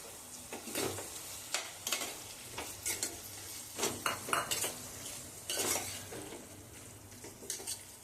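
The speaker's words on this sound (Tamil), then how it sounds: "இப்போ இறால் சேர்த்துப்போம்." Prawns going into a hot pan for prawn biryani and being stirred, with a spoon clinking and scraping against the metal pan in irregular bursts over a steady sizzle, close up.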